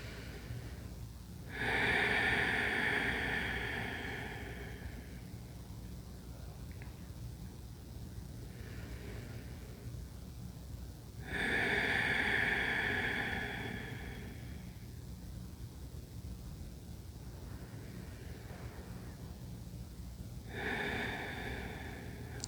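Slow, deep breathing of a person resting in yoga child's pose on a mat: three long, audible breaths spaced several seconds apart, close and fairly loud over a quiet room, no talking.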